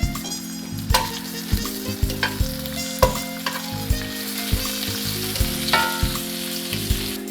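Bacon frying in a pan, a steady loud sizzle with regular scraping and clinking of a utensil as the strips are moved and turned.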